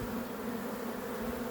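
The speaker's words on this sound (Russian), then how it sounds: "посмотрите, как пчелы прям бесятся на этой приманке." Honeybees swarm over a lure of melted old honeycomb, a dense, continuous buzzing drone close by with no talk.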